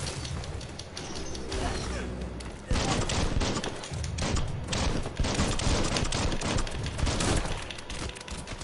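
Gunfire in the video game Biomutant, loud and dense bursts of shots with thuds and crashes, swelling in intensity partway through, mixed with game effects and someone talking over the action.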